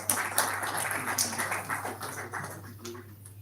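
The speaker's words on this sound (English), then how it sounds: "So ladies and gentlemen, another round of applause to our travel partner," An audience claps for a travel partner at an Ironman 70.3 event, a moderately loud, sustained patter of many hands with a steady low hum beneath, tapering slightly toward the end.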